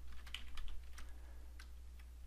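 Soft, quick keystrokes on a computer keyboard patter in a short irregular run, fairly quiet and close, with a steady low hum underneath and no talking.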